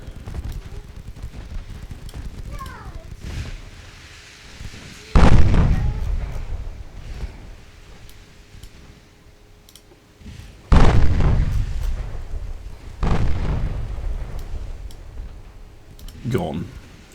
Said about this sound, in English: Just making sure the main guns are also firing